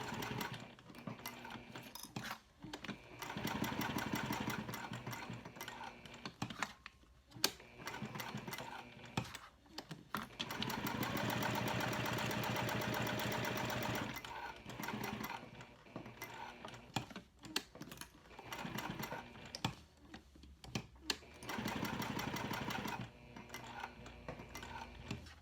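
A sewing machine stitches through a cork and vinyl checkbook cover, running in long continuous rattling bursts broken by short pauses, close and fairly loud with no voices.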